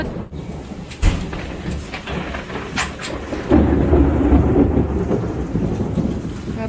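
Thunder rumbles loud and deep through a thunderstorm in the Philippines, with sharp cracks and a rolling swell over steady rainfall.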